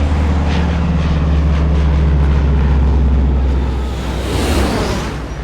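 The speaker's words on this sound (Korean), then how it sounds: "간절한 바람에도 물을 뿌리지 못하고 지나쳐버린 소방 비행기." A firefighting airplane flies past over a wildfire, its loud propeller engine droning steadily with a low throbbing hum, then easing slightly as it moves away.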